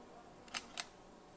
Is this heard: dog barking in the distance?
no